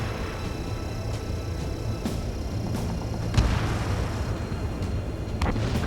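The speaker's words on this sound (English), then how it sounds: "Missile launched." In the video game Ace Combat 7, a missile launches and explodes amid a constant loud roar of jet and battle noise, with several dull booms breaking through the dense rumble.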